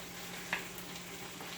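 Green onions sizzle gently in a pan with ground pork for a low-carb crack slaw, a soft steady crackle with one brief stir or clink partway through and no talking.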